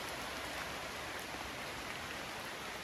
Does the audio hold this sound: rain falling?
yes